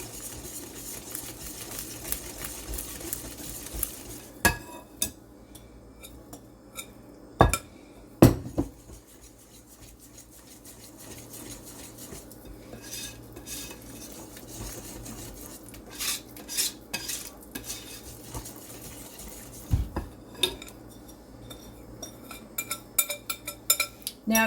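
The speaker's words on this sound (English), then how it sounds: "slowly add the dry ingredients to the wet and just keep on stirring" A spoon stirs banana streusel muffin batter in a bowl as dry ingredients are folded into wet, giving soft scraping and occasional sharp clinks of utensil against the bowl, close and alone with no talking.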